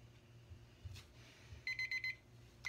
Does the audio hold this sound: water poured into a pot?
no